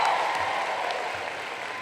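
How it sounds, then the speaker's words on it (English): Commencement crowd at Kean University applauding mildly, a soft, thin patter of clapping that fades slightly over a short span, heard without talk. "If this applause continues at this mild level, my speech would be 1 hour, 45 minutes, and 32 seconds."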